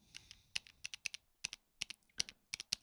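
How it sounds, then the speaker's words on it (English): Computer keyboard keys are pressed in an irregular run of crisp, close clicks, about a dozen distinct keystrokes in under three seconds, quiet and isolated with no talk. "I'm pressing the keys down."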